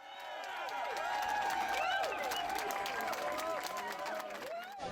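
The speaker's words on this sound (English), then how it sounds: "PC leader Tony Wakeham was greeted with thunderous applause Tuesday night as he entered this hotel ballroom" A packed hotel ballroom crowd in Newfoundland and Labrador erupts in sustained applause, cheers and whoops as PC leader Tony Wakeham enters on the night of his party's majority election win. The dense, roaring noise swells and holds for several seconds.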